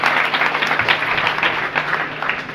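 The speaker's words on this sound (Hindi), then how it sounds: "तो एक बार जोरदार तालियां बजाइए" A seated audience at a Child Welfare Committee programme claps loudly on request, a brisk, uneven burst of many hands close by that stays fairly even for a couple of seconds with no speech over it.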